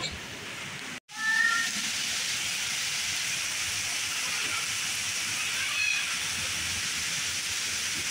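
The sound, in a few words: heavy rain falling at night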